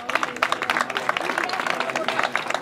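An audience at a traditional pig-slaughter festival in Cipérez claps during a prize handover, a steady patter of many hands under a speaking voice.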